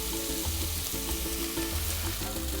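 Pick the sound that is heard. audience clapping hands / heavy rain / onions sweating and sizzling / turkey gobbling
onions sweating and sizzling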